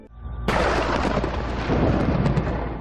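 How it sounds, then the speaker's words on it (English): A sudden deep crack of thunder bursts in and rolls into a long, loud rumble that slowly fades over a couple of seconds. "Suddenly, Curtis hears thunder rumbling through the clear sky"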